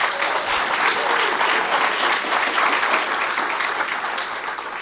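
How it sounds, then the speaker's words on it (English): An audience at a grand opening event applauds the team in a steady, full round of clapping that stays loud throughout and eases slightly toward the close. "Real quick, can I get a round of applause for my team here"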